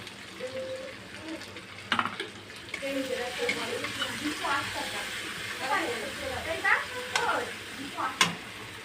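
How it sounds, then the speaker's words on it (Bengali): Spice mix with turmeric sautéed in a pan for shukto, soft sizzling and frying under scraping stirs, with a voice talking over it. "মশলাটা সুন্দরভাবে কষানো হয়ে গেছে"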